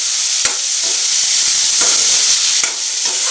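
Onions and green chillies fry steadily in plenty of oil for an eggplant curry, a continuous close hiss broken by a few sharp stirring scrapes.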